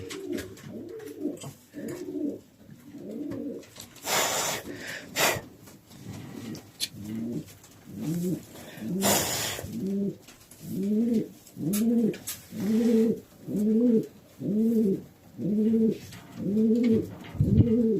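Racing pigeons cooing close by in a loft, a long run of soft rhythmic coos that grows steadier and louder toward the end, with a couple of brief rustling bursts in between.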